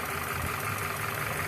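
A warm Subaru engine idles steadily nearby, a dense, even mechanical rumble with a faint ticking texture and no voices.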